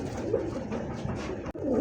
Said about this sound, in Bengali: আমেরিকান ফ্যান্ডেল কবুতর বাচ্চা, হ্যাঁ খুব সুন্দর মাশাআল্লাহ।